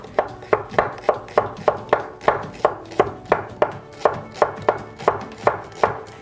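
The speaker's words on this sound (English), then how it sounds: "let's just slice this shallot really finely" A knife finely slicing a shallot on a cutting board, about sixteen crisp, evenly spaced chops in a quick steady rhythm, close and clear with no voices.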